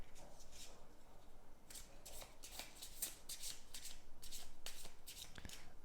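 A deck of playing cards is riffled and shuffled repeatedly at close range, giving a run of crisp, fluttering bursts separated by short pauses, with faint room noise beneath.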